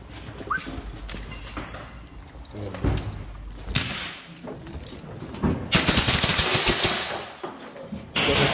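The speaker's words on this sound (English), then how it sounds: "So they're firing sim rounds." Simulation rounds crack during military close quarters battle training, sharp bursts and scattered pops mixed with banging and shuffling, while voices talk in the background.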